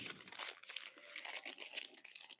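A taped-together parcel from a Goulet order being pulled open up close, with quiet continuous crinkling and crackling of paper and plastic, a few short tearing bursts, and no voices.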